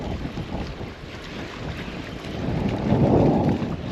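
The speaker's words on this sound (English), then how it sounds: "That wind is pumping." Strong wind gusts buffet the microphone at shallow docks on the water, a loud, continuous low rumbling roar that swells toward the end.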